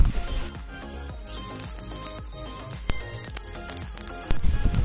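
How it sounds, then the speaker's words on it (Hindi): Bay leaf and cumin seeds tempering in hot oil in a kadai for a Bengali prawn malai curry, a loud close sizzle with scattered crackles and clattering pan knocks, swelling louder near the end, no voices. "तारपरे देव जिरे फोड़न"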